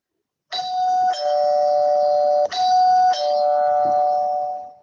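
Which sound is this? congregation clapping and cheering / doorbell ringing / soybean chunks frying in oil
doorbell ringing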